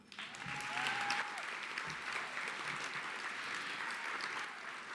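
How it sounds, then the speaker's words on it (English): Sustained applause from an audience at the 2023 BBB Torch Awards for Ethics, a dense, steady wash of many hands clapping that holds for several seconds at even loudness before easing slightly. "Round of applause."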